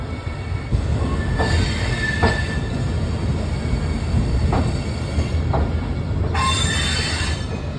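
The Sampoorn Kranti Express pulls out of platform 16 at New Delhi railway station. A loud, steady rolling rumble runs throughout, and several sharp, high wheel squeals break through at intervals.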